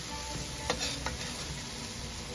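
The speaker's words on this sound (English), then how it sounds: "Frying down nicely." A steady soft sizzle of onions and curry layers frying in a pan, with a couple of brief clinks of a utensil stirring.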